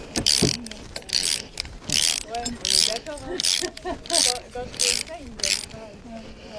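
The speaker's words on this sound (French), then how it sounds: "Une clé à cliquer." A ratchet wrench drives self-drilling screws into wooden planks in A-frame house construction, giving rhythmic bursts of rapid clicking close by, about eight strokes with short pauses, while a voice is heard among them.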